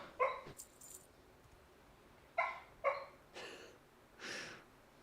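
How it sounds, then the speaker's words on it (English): A sleeping dog gives a few soft, muffled barks and yips, spaced irregularly with breathy whimpers between them, close and quiet in a calm room. "It's my dog barking in her sleep"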